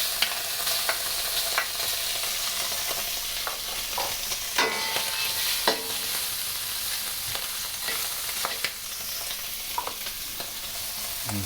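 Shrimp sizzle hard in a hot wok for shrimp lo mein, a dense, loud frying hiss throughout, broken by repeated scraping stirs and clinks of the utensil against the pan.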